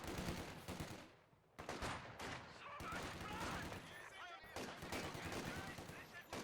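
Rapid bursts of MG42 machine gun fire in Company of Heroes 2, loud rattling volleys in dense rhythmic strings with brief gaps, mixed with other battle gunfire.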